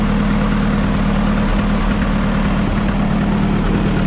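A Roadless Fordson tractor engine idles roughly on petrol, a loud, steady low rumble with an uneven, lumpy beat throughout and no talking.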